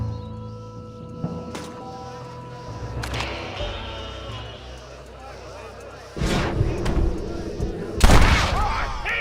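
Gunfire in the Western video game Red Dead Redemption, a few sharp shots and booms, with two loud blasts near the end, under a bed of game music and voices talking.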